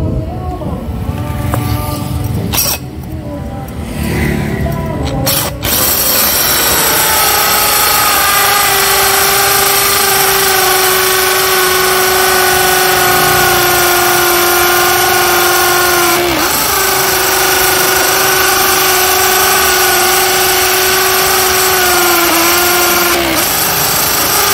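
A Makita HP481D cordless hammer drill bores into a concrete slab with steel rebar, first giving scrapes and knocks, then a loud, steady motor whine with a rough grinding edge that dips briefly midway and continues close up.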